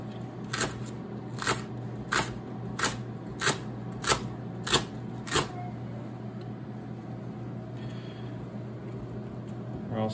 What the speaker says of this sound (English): And then we're gonna cut our leeks